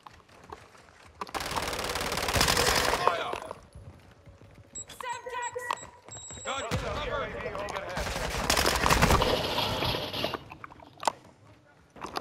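Rapid Call of Duty gunfire crackles in dense bursts across most of the stretch, loud and up close, with a quieter gap in the middle. Speech mixes in among the shots.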